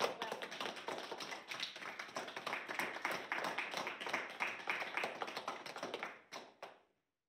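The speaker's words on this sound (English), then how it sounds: "let's give him another big clap" Clapping for a school prize winner at a prize-giving, a small group's claps close and crisp, continuing steadily before tapering off and stopping near the end.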